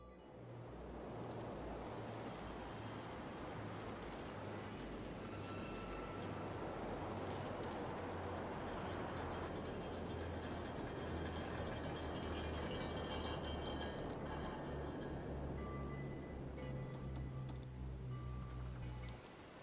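Ocean water and waves samples from a sample pack layered into a song, a continuous broad wash of surf running throughout alongside low sustained musical tones, with no talking.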